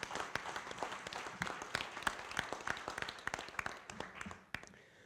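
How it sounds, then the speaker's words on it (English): Audience applause at a candidate forum for city council races, a steady wash of many hands clapping at moderate distance that thins and fades toward the end. "how about one more round of applause so far for the folks who are willing to do that?"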